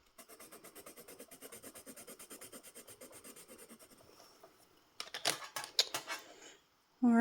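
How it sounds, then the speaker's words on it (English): Big colored pencils scratching across paper in fast, even back-and-forth strokes for several seconds, close and fairly quiet, then a few sharper rustles and taps before a louder knock at the end. "You can get a lot of color lay down with these big pencils"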